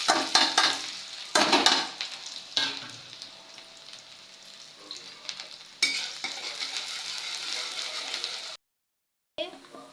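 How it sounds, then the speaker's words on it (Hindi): Onion goes into hot oil with fenugreek seeds, sizzling loudly in bursts that ease into a softer frying hiss. Stirring clatters briefly, a second loud surge follows, then there is a short silence. "मेथी गरम हो जाए तो डाल देती हूँ प्याज"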